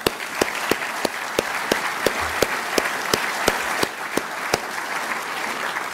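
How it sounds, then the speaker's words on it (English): An audience at a conference event applauds steadily and loudly throughout, dense clapping from a crowd with a few sharper individual claps standing out. "So I just want to give him a round of applause."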